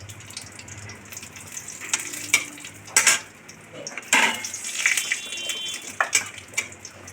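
Panch phoron, bay leaf and whole garam masala go into hot oil in a kadai for aloo kosha, with a low sizzle under sharp clinks and scrapes of a spoon against the pan.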